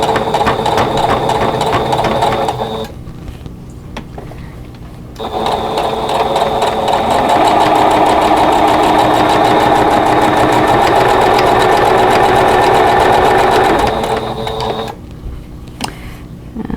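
A sewing machine stitches a fabric table runner in long, loud, steady mechanical whirring runs, halting briefly twice as the needle stops down in the fabric.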